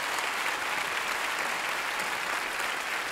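Steady, dense applause from a studio audience at a televised singing competition's blind audition, loud and continuous for a few seconds without a break.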